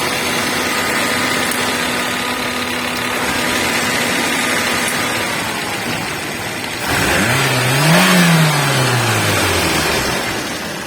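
An LPG-fuelled car engine at a steady idle during tuning, loud and close, then revs up in one smooth rise and falls back, the pitch climbing and dropping before settling again.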